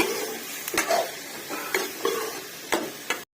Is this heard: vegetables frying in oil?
yes